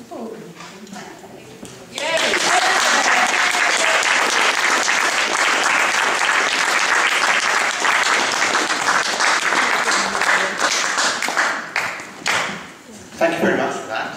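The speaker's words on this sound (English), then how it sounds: "It's good to hear an applause before I open my mouth" Sustained audience applause fills a meeting room at a mental health trust annual general meeting, starting abruptly after brief talk, holding loud and dense for about ten seconds, then thinning into scattered claps before speech resumes.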